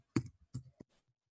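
A handful of sharp keystrokes on a computer keyboard enter an ipconfig command on Windows, arriving as isolated clicks spaced a fraction of a second apart in an otherwise quiet room.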